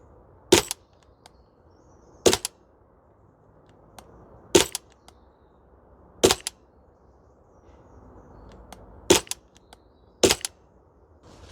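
A Maruyama MP9 airsoft gun fires single shots on an outdoor range in cold weather, six sharp cracks spaced a couple of seconds apart against a quiet background.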